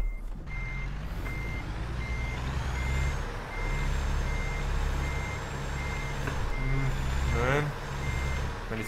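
Truck reversing alarm in American Truck Simulator, a steady series of evenly spaced beeps over a constant low diesel engine drone, with a brief hiss of air brakes near the end.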